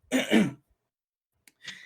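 A single close throat clearing, a rough guttural rasp, followed by a short silence and a smaller second rasp.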